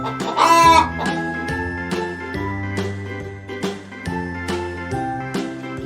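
A cartoon-style hen clucks in a short rhythmic run, mixed with bright tinkling chime notes and a bouncy musical backing, all loud and close with no talk.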